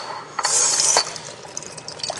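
Water is poured into a container in one loud, splashy burst lasting about half a second. A few faint clinks and small splashes follow, with no speech.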